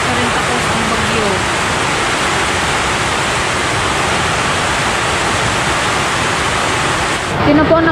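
Heavy storm rain pours steadily and loudly in a rural province, a dense continuous hiss that holds evenly for the whole stretch before shifting slightly at the very end.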